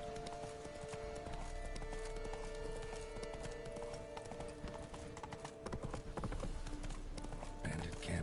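Hooves clip-clop steadily as a horse moves along in the video game The Witcher 3: Blood and Wine, set against a dense, loud in-game soundscape that holds steady throughout.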